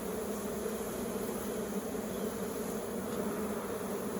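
Honey bees swarm around an open hive in a steady, dense buzz that holds throughout, close and continuous with no voices.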